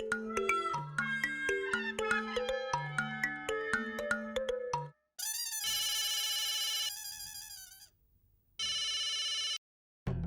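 A telephone rings on a call placed to the milkman, heard as two loud, steady bursts of electronic ringing separated by a short silence, following a stretch of background music.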